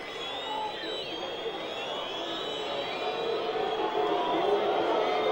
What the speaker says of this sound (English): Crowd booing, as you might expect.